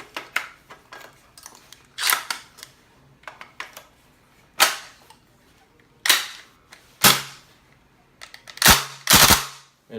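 A WE Tech gas blowback Thompson airsoft gun is dry fired in a series of sharp, loud, close metallic clacks, some single and some in quick doubles, at irregular intervals with quiet gaps between.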